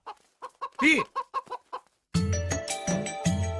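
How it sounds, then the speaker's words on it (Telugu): A chicken clucks in a quick series of short, sharp calls with one louder squawk, heard alone and close, followed by a burst of background music. "కోడి దూకింది చూడు ఎదవా."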